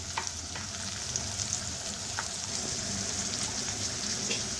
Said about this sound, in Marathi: तेल तापल्यावर त्यात मी मोठे 2 कांदे घालते